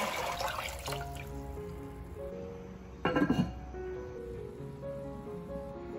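Lotus seeds in a pot of water heat over a high flame, giving a quiet trickling, bubbling wash under a low steady hum, with one brief clatter partway through.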